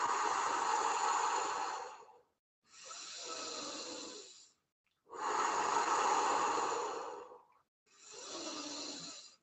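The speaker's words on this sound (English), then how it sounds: "slow, deep breathing in through the nose" Slow, deep breaths in a kundalini yoga practice, drawn in through the nose and released out through the mouth, four long breaths in steady succession with short pauses between, close and fairly loud with no talking.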